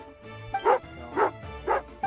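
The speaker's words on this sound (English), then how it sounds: "Oh, angry doggy." A dog companion in the Genshin Impact video game barks, heard as three evenly spaced, close, loud woofs with a brief yip at the end over a soft game music bed.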